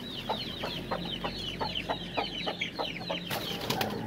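Aseel chickens cluck in a repeated, evenly spaced series of short calls, close and fairly loud, over a low background hum with a brief flutter near the end.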